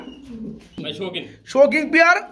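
Pigeons coo at a bird sale, low rolling calls close by, mixed with chirps and overlapping talk from people nearby.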